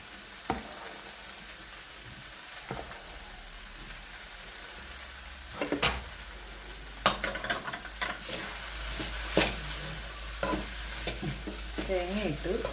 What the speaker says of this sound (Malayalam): ഇനി നമുക്ക് ഇതിലേക്ക് കുറച്ച് തേങ്ങ ഇടാം